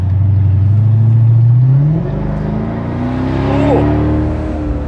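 A Mercedes R230 SL500 with a 722.9 transmission fault drives along loudly, the engine droning steadily at first, then revs climbing and dropping through gear changes as it downshifts and pulls, with no talk.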